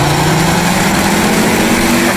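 Ford Focus RS engine running close up, a steady loud droning note with a strong low harmonic held throughout, no talking over it.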